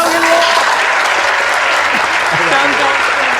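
Brief, steady applause from a small group greeting the runner-up, dense clapping throughout a few seconds with a background voice.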